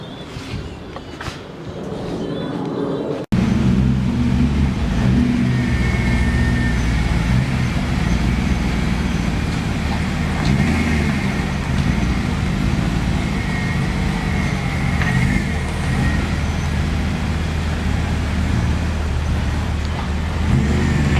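Barn-find BMW E30 on its first drive, a near, continuous engine drone and road rumble under way for about twenty seconds after a brief quieter opening.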